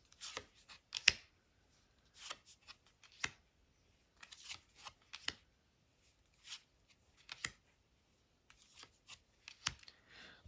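A deck of Halloween Tarot cards is shuffled in soft, close riffling bursts, about a dozen quick papery flutters separated by short quiet gaps.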